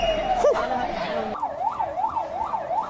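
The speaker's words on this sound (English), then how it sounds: "There's an ambulance there." An ambulance siren wails through a street protest, first a long steady tone and then a rapid rising-and-falling yelp, fairly close and loud over crowd noise.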